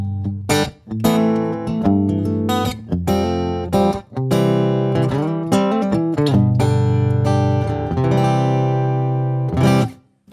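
A guitar played through a Bose L1 Pro8 portable PA system, picked up by both line out and a large diaphragm condenser microphone, sounds clear and full with strummed chords and single notes over about ten seconds.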